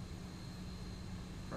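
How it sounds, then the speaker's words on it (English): An aircraft arriving at an airport in a flight simulator, a steady low engine drone that holds even and faint throughout. "Another aircraft arrived."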